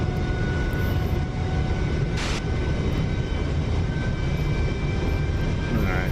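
Loud, steady roar of an F-35B jet engine in the DCS flight simulator during a vertical-landing attempt, a continuous broadband rumble with faint whining tones that holds at the same level throughout.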